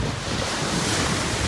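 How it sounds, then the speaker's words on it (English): Large ocean waves break against rocky shore, a steady loud roar of surf mixed with heavy wind buffeting the microphone throughout, with no talk. "Look how big these freaking waves are."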